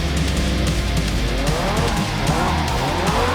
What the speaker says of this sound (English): I was able to properly position the car into drift without even tapping the handbrake or using the clutch